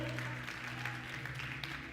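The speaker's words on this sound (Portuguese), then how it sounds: "Você pode dar um aplauso ao Senhor por isso?" A church congregation applauds during a sermon, giving a brief, soft patter of clapping over a low droning hum, fairly distant and even throughout.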